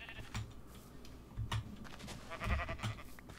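A sheep in the game CodeCraft gives several short bleats spread across a few seconds, mid-distance and moderately loud, mixed with light clicking in the background.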